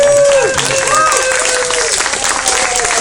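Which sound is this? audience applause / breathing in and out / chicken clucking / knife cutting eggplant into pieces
audience applause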